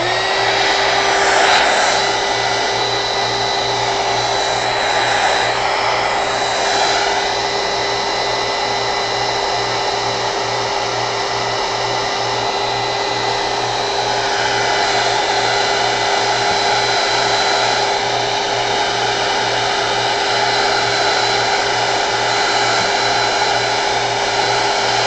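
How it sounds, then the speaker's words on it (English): Heat gun drying a heavily watered painting, a steady, loud, close blowing whir with a constant motor hum that runs without a break the whole time, no talking. "Alright, heat gun."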